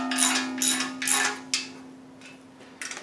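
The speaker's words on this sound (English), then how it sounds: "that was me hitting the pickup too" Metal tool striking a pickup truck during a 4.8 engine rebuild: five sharp, close impacts spaced about half a second apart, then a pause and a final quick double knock over a steady background hum.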